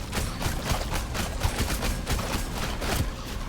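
Rapid gunfire fills the Rogue Legacy 2 game, a dense run of quick, evenly spaced cracks that goes on throughout without a pause.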